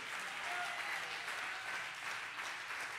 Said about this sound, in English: you ought to clap your hands for two men who were good role models